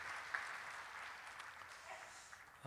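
A church congregation gives a soft round of welcoming applause during a Sunday service, faint, steady clapping heard from a distance with a brief voice at the close.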